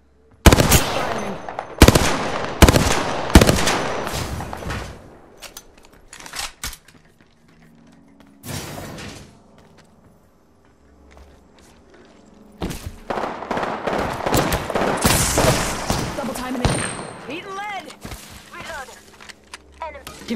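Rapid bursts of automatic gunfire in the battle royale video game Apex Legends, loud crackling volleys separated by a quiet gap, with in-game voice callouts heard around the shooting.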